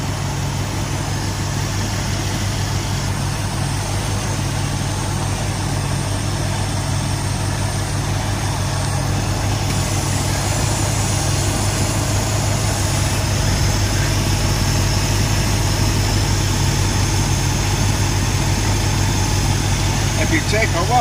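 A 1969 Shelby with a 428 Cobra Jet V8 idling steadily, a loud, even low rumble throughout with someone talking over it.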